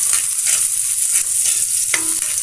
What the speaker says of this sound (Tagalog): gisang-gisado na ang ating mga ricado